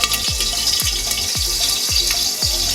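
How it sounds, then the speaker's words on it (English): Vegetables sauté in a pot for vegetable fried rice, giving a continuous bright sizzle broken by about six evenly spaced thumps and scrapes of stirring, close and fairly loud. "First sauteing."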